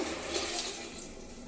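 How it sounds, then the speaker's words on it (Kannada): Water pours into a pot of okra sambar with sprouted pulses, a close, loud, steady rushing gush lasting the whole moment with no talking. "ಬೆಂಡೆಕಾಯಿ ಹಾಕಾದ್ಮೇಲೆ ಕಾಳು ಹಾಕಾದ್ಮೇಲೆ ನೀರು ಹಾಕಬೇಕಾಗುತ್ತೆ."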